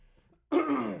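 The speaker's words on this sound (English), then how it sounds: "right when I start streaming is when I start coughing" A single harsh cough or throat clearing erupts close up after a moment of near silence.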